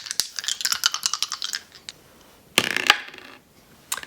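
Dice rattling and clattering in a close, dry burst of rapid clicks, a pause, then a second louder tumbling roll and a final brief click, with no talking.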